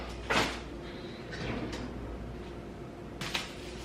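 A kitchen drawer slides open and shut during decluttering, giving a sharp knock early on, a softer scraping slide in the middle and another clack near the end, all close by over quiet room tone.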